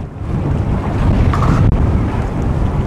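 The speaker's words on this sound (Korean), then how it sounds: "아, 바람 장난 아니다." Strong wind blasting across open sea off Chujado, with a steady roaring rush, buffeting on the microphone and sloshing water under a rocking boat, loud and continuous throughout.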